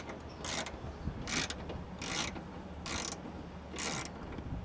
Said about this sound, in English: taking out the 4 bolts that hold the box in place